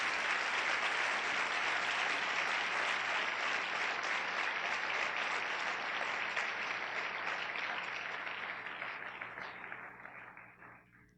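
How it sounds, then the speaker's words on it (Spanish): Congregation at a church service applauding together, a loud, sustained wash of many hands clapping that holds steady for several seconds, then fades out toward the end. "Dale un fuerte aplauso a Dios"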